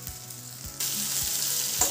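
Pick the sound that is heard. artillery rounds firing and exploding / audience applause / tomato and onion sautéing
tomato and onion sautéing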